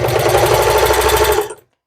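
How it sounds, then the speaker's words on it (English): A sewing machine fitted with a walking foot runs at a fast, steady stitching rhythm for over a second, then winds down and stops. "It makes a little bit more noise because you have the action of the feed dogs on the top as well as on the bottom"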